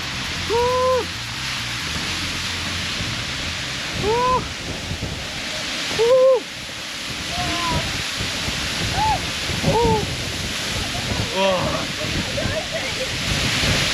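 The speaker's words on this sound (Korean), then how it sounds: "저기서 큰 폭포가 떨어진다 와 폭포 엄청 강해서 바람이 붑니다" A powerful waterfall on New Zealand's Routeburn trail roars as a steady, wide rushing hiss, with wind and several short excited voices calling out over it.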